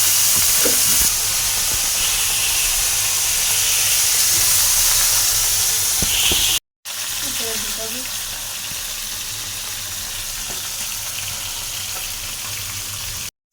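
Potato pieces frying in hot oil for a fish curry, a loud, continuous sizzle and hiss close by that stops for a moment partway through and then resumes just as steadily.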